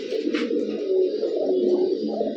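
Giribaz pigeons coo in a steady, continuous low murmur, close and fairly loud, with no voices over it.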